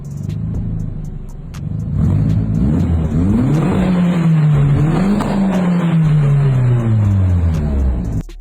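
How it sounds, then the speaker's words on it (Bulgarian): A car engine idles with a low rumble, then revs up loudly several times, the pitch rising and falling in strong, close bursts. "сега ще ви пусна клип как се чува тая кола"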